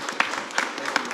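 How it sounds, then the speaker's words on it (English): A live audience at an interfaith discussion with atheists claps for Roy in a brief, dense burst of applause, many hands at once, close and fairly loud. "a big round of applause for Roy, who I think did a fantastic job"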